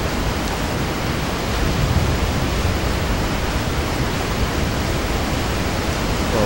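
A waterfall in the Resident Evil 4 video game gives off a steady, dense roar of rushing water that holds at an even loudness throughout, with no voices.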